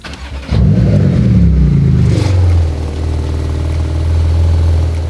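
A Porsche GT2RS engine cranks and fires after an ECU flash, flaring into a loud rev before settling into a steady, deep idle, heard up close with no talk.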